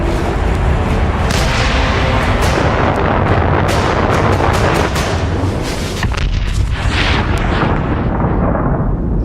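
A massive nuclear bomb explosion in the video game Fallout 76, a loud sustained roar packed with dense cracking, whip-like bursts and booming blasts that gradually thin out toward the end.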